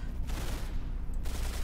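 Rapid gunfire in the Arsenal video game, a dense burst of many quick shots with a brief lull in the middle before the firing resumes, loud and close with no talk.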